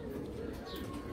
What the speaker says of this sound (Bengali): এই একটা কবুতর।